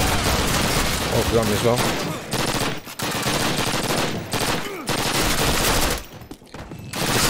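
Loud Call of Duty gunfire rattles almost nonstop, bursts of automatic fire and shots packed close together with brief pauses, while someone speaks briefly over it.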